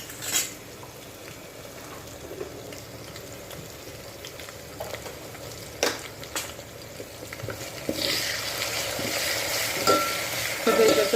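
Chilli paste and vegetables frying in a pan for Maharashtrian masale bhaat, with a steady close sizzle, scattered scrapes and clinks of a spoon stirring against the pan, and the sizzle swelling louder toward the end.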